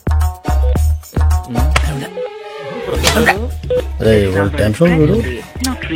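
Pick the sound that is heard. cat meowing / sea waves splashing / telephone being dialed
telephone being dialed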